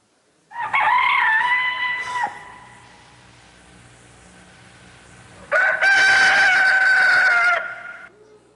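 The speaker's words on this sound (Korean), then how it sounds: "닭소리 한번 들어보겠습니다" A rooster crows twice, loud and close: a long strained call, a quiet pause, then a second drawn-out crow with no talk.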